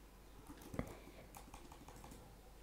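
Typing C# code on a computer keyboard, a run of light, quick key clicks with one sharper tap early on, close but quiet, alone without speech.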